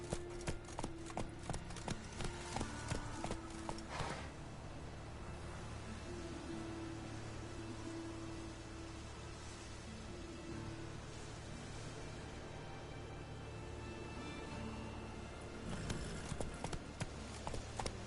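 Horse hooves clip-clop in Witcher 3. A quick burst of steps comes at the start and another near the end, with a low ambient drone between them.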